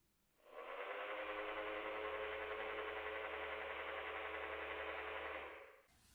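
A small electric motor in an automatic sensor liquid soap dispenser whirs steadily for about five seconds at close range, starting and stopping abruptly, with a faint hum underneath.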